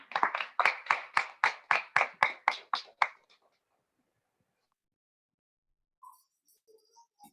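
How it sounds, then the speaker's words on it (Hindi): A congregation at a church service claps in unison to welcome a speaker, about a dozen sharp, evenly spaced claps over three seconds, then near silence with a few faint knocks and small sounds. "जब वे आते हैं ताली बजाकर हम लोग उनका स्वागत करेंगे।"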